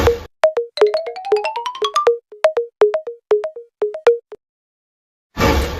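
A phone dialing: a rapid run of rising beeps, then steady repeated ring tones, then a pause before a burst of noise at the end.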